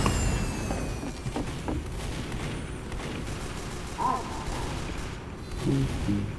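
Gunfire in Team Fortress 2, a dense stretch of overlapping shots and booms at steady loudness, with brief voice-like bursts mixed in.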